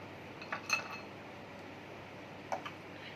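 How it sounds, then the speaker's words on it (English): A few light clinks of ice cubes dropping into a glass of mint drink mixture, close and faint, with quiet pauses between. "Now all the ice cubes I have added."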